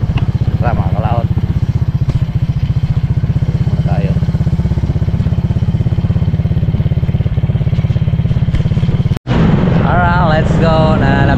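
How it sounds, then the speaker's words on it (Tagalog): Motorcycle ridden near Taal Lake, its steady engine drone loud and close throughout, with a brief cutout near the end before it roars on again, as people talk over it. "Dito at malikot yung motor."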